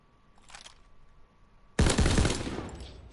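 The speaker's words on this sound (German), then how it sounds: "Da war ein Schuss." Gunfire in the World War II shooter Call of Duty WWII: a faint distant shot, then a loud close burst of rapid automatic fire that rings out and slowly fades.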